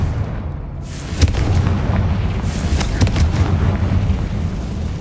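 A Confringo fire spell explodes in the Hogwarts Legacy video game: a dense, rumbling blast with sharp bursts near the start and midway, set against continuous booming game noise and no speech.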